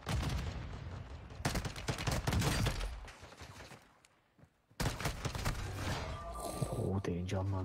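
Rapid bursts of video-game gunfire fill the stretch, with dense machine-gun-like volleys and shots, a brief lull near the middle, then more firing as players talk over it.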